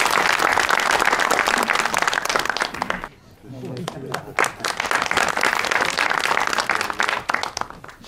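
Studio audience at an Azerbaijani comedy show bursts into sustained applause, loud and dense, with a short dip in the middle before the clapping swells again to the end.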